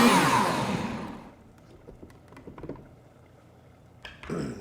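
A countertop blender purees enchilada sauce with sour cream and cheese, loud at the start and then winding down quickly, followed by faint clinks and handling noises and a short thump near the end.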